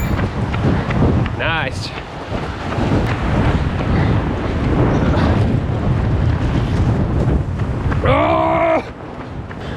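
Strong gusting wind buffets a GoPro fitted with a wind cover during an outdoor run, giving a loud, steady roar with surging gusts throughout. A voice speaks briefly partway through.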